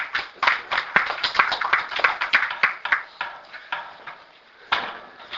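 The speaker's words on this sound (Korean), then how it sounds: "박수로 환영합니다" A small gathering's applause welcoming a speaker at a monthly club meeting, a modest group of sharp, uneven claps that quickly trails off into scattered few hands with a late single burst.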